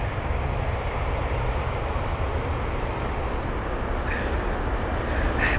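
Airliner landing at London Heathrow with reverse thrust engaged, a loud, broad, continuous roar of engine noise heavy in rumble that holds steady from a moderate distance, without speech over it.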